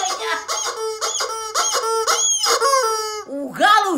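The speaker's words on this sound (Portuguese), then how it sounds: "O galo velho" An old rooster crows nearby in the morning, a loud drawn-out cock-a-doodle-doo with wavering, strained harmonics, followed by a shorter rising call at the end.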